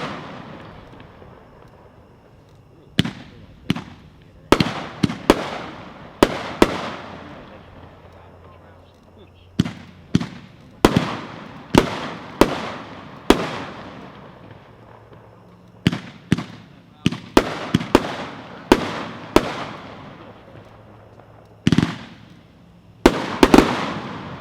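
A Worm Burner 20-shot fireworks cake fires a long run of sharp, loud bursts in uneven clusters with brief gaps between them. A faint voice is heard near the start.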